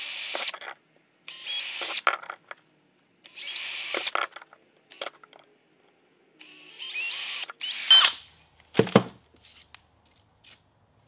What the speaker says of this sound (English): I'm using a little like 3/32 drill bit to start with the pilot hole